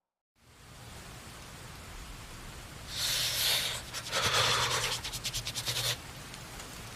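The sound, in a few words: rain falling, horror story sound effect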